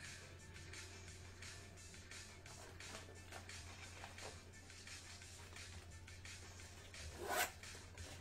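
A bag zipper is pulled in quiet, steady runs of soft rasping over a constant low background hum, ending in one short, louder zip near the close.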